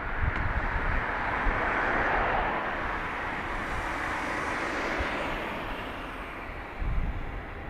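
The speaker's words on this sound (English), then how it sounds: "757 pushing back" Cargo Boeing 757 jet pushing back at Dublin Airport, a broad, steady roar of engines and ground noise at some distance, holding level throughout with a slight swell near the end.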